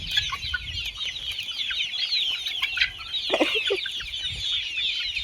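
A flock of chickens clucks and chatters busily, close and overlapping, with brief bursts of louder squawking and no talk.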